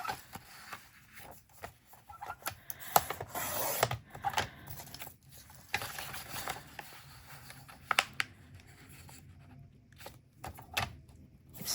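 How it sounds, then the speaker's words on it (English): A trimmer cuts along the edges, giving soft, uneven scraping and rasping strokes with a few sharper ticks. The sound is close and quiet, and no one speaks. "I'm gonna use this trimmer for this edges."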